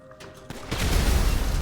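Car blowing up in the GTA V zombie mod video game: a sudden loud blast that swells into a sustained, heavy rumbling boom.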